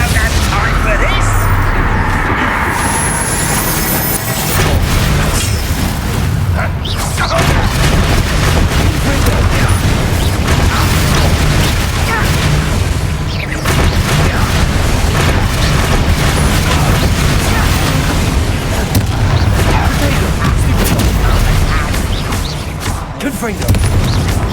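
Confringo blasting spells explode in Hogwarts Legacy, a loud, dense run of booming blasts and crackling bursts through a battle, with voices talking over the din.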